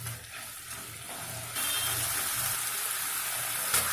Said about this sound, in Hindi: इसे अच्छी तरह से मिला करके इसे अच्छी तरह से भूनना है